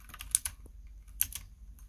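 Computer keyboard keys pressed in random bursts, sharp clicky taps arriving in two small clusters with quiet gaps between, close and alone.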